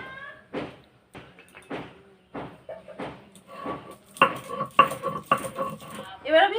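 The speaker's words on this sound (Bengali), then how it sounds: "এবার আমি বাদামটা বেটে নেব।" Peanuts being ground into a paste: a regular series of rough, scraping strokes at roughly half-second intervals, growing louder and denser toward the end, with clinks of hard material.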